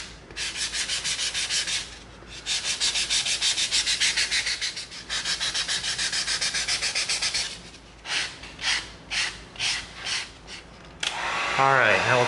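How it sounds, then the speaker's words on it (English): Repeated rubbing strokes of a 220-grit sanding stick on EVA foam, a steady rasping rhythm in long bursts, then shorter separate passes, close and fairly loud. "now we're gonna get our sanding stick out. We're gonna clean it up a little bit."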